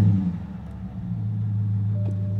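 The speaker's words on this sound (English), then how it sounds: "I like that exhaust." A BMW 750Li engine idles with a deep, rumbling exhaust, swelling into a rev partway through before settling into a steady low drone, close and prominent.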